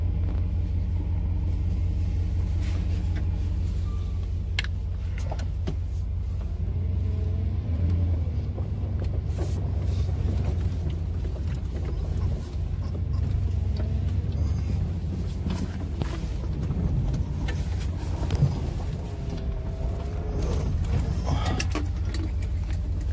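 A four-wheel drive vehicle's engine rumbles steadily while driving, a continuous low drone heard from inside the cab with faint rattles and shifts in tone, no speech.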